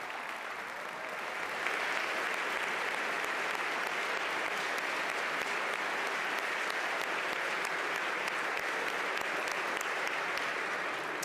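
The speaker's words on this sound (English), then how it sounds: "we should all clap for our firefighters" An audience at a state budget address breaks into sustained applause for firefighters, rising after a moment into a loud, even roar of clapping that carries on at length.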